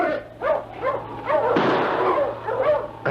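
A team of sled dogs barks and yelps repeatedly in the snow, the chorus building into a loud, dense outburst midway before settling back into scattered barks.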